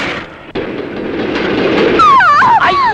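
A train in motion rocks and rumbles steadily, a loud sustained clatter with a sharp jolt near the start and high squealing tones rising toward the end.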